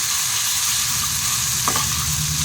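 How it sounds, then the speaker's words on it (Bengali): Grated ginger, garlic and salt fry in hot oil with a constant close sizzle and crackle, broken by a brief stirring scrape partway through. "সবগুলোকে আমি একবার খুব ভালো করে ভেজে নেব"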